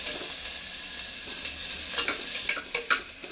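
Onions sizzle in a pan with ginger and garlic for vegetable soup, a close, steady frying hiss with a few sharp stirring clicks near the end and no voices.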